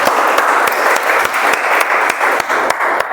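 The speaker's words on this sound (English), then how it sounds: "let's give a huge round of applause for Shirish again" A meeting audience gives steady, sustained applause, dense overlapping claps filling the room at close range with a few sharper individual claps standing out, and no talking.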